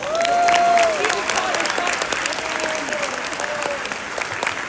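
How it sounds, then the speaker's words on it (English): A crowd of over 500 people claps in a hot auditorium, loud and continuous from start to finish, with brief whoops and a cheer rising over the applause. "Let's give them a round of applause."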